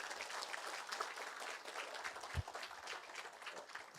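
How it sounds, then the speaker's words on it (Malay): An audience at a seminar gives a steady round of applause, dense and moderately distant, with no speech over it. "Bagi tepukan kepada tuan-tuan dan puan-puan."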